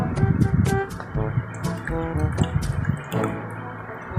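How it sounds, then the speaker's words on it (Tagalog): Water is poured into a container for rinsing paintbrushes, a close, gurgling trickle with small splashes that rises and falls over a few seconds. "Lalagyan na natin ito ng tubig."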